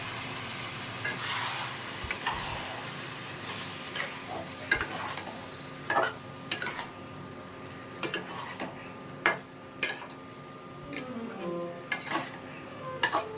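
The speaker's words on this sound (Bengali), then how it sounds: "ভালো করে মিশিয়ে নিচ্ছি" Soybean, papaya and potato curry stirred in a pan after a splash of hot water, a low bubbling sizzle broken by repeated sharp spoon clicks and scrapes against the pan, close and without talk.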